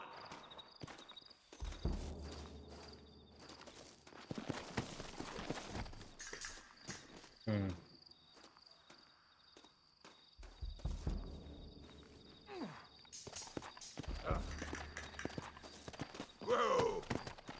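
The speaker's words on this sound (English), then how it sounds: "Looks like Carlos left us some horses" Horse hooves clip-clop in a video game, a steady walking rhythm that comes and goes, mixed with game noise and people talking over it.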